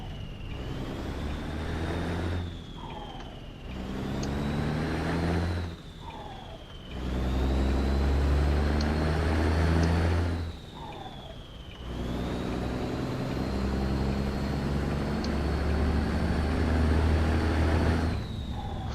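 A truck driving in a video game, its engine droning steadily with a whining gear tone that rises and drops across repeated shifts, loud and continuous with brief dips between gears.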